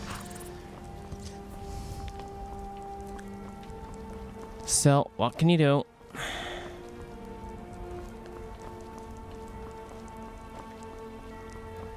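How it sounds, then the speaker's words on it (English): Steady rain pattering down in the video game Skyrim, a constant soft hiss of drops throughout, with someone talking over it and a brief louder burst of voice partway through. "it would be bloody raining and all"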